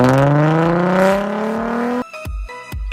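A Ford Mustang six-cylinder with a home-modified exhaust revs hard and loud, its pitch climbing steadily for two seconds before cutting off, followed by a few short sharp blips.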